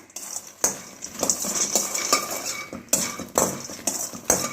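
Makhana (lotus seeds) fry in a pan while a spoon stirs them, giving irregular close clinks and scrapes against the metal over a soft sizzle, with no voices.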